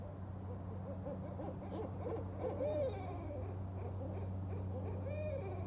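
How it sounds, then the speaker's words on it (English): Barred owls hoot back and forth in an outdoor setting, a group calling in rhythmic runs of hoots over a steady low background hum, some calls nearer and louder, others farther off. "The barred owl is awesome and comical all at once."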